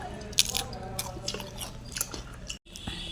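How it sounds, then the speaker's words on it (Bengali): Crunchy papad eaten with chutney gives a few close, crisp bites and chewing crunches in quick succession, with quiet background between. "একটু চাটনি দিয়ে পাপড়টা খাই"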